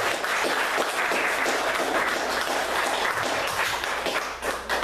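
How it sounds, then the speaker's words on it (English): A church congregation applauds new members welcomed into the family, steady dense clapping filling the room without pause, loud and continuous throughout. "Can we just give them a round of applause?"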